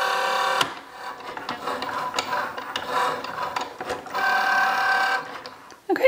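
A Cricut Joy machine cuts a vinyl sheet on a mat, giving a steady whirring, rasping motor sound with shifting strokes and short pauses, close and moderately loud, alone without talk.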